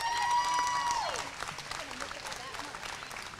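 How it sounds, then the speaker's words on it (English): Crowd clapping at a county fair livestock show arena, moderate applause rising under a loudspeaker voice that trails off, with scattered claps continuing afterward. "Go ahead and give him a big round of applause"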